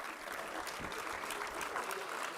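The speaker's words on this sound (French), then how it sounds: "Je voudrais aussi qu'on l'applaudisse" A room of people clapping for a man named Hervé at a speech marking the tenth Fête de la Pomme, a steady, moderately quiet patter of hands lasting the whole moment with no voice on top.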